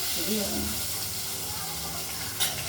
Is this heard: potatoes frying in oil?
yes